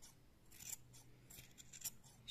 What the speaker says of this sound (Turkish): Büyük makas da çok daha iyi oluyor arkadaşlar.